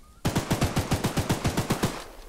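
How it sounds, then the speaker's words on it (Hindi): A rapid burst of automatic gunfire in the video game Choo Choo Charles, about a dozen loud, close shots in a fast, even rhythm, with no voices. "गोलियों की आवाज चूचू को अपनी तरफ आमंत्रण देने का न्योता था ये।"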